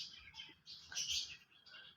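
Pigeons arriving at a home loft during hand taming, giving soft chirps and short calls close by over faint background noise, with no talk.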